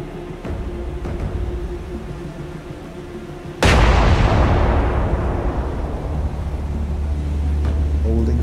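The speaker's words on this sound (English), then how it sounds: "with her 16-inch guns. So, manual fire. Round one out." Battleship 16-inch naval guns fire in the War on the Sea game: one huge, sudden blast after a low hum, then a long rumbling roar that slowly fades out.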